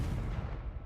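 A Confringo fire spell cast in the Hogwarts Legacy video game: one heavy, booming blast with a dense low rumble that fills the whole second, loud and close, with no voices over it.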